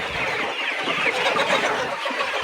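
Dense, continuous clucking and chatter from a flock of chickens being fed, close by, with overlapping calls and no pauses.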